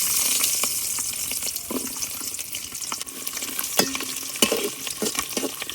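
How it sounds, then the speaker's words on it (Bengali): Garlic frying in hot mustard oil with dried chillies in a pot for a tangy mango pickle, a steady close sizzle broken by scraping stirs and occasional spatula knocks. "এখন রসুনটারে হালকা একটু লাল করে ভাজে নিলাম"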